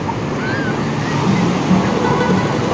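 Steady rushing surf at Pangandaran beach fills the clip, with waves washing constantly and some wind buffeting the microphone. Faint voices sit beneath the noise.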